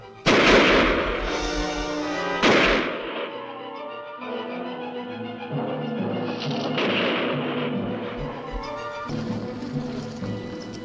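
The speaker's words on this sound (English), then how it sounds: "Fire over its head!" Gunshots fired over a monster's head in the film Night of the Blood Beast: two loud, sharp blasts a couple of seconds apart, followed by dramatic orchestral music.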